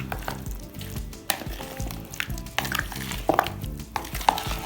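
Raw chicken is stirred into a spiced marinade in a bowl, giving steady wet squelching and soft scraping with occasional sharper clicks of the spoon against the bowl, close and moderately quiet, with no voices.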